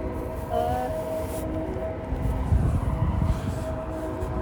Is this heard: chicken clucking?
no